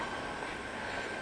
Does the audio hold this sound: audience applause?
no